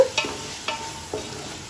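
About 400 grams of tomatoes sauté with ginger and garlic in a pan for mutton biryani, with a soft background sizzle broken by three distinct stirring scrapes.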